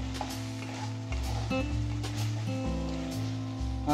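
Chicken pieces frying in hot oil for an Andhra-style chicken fry biryani, a steady crackling sizzle like light rain, moderately quiet and continuous under soft background music tones.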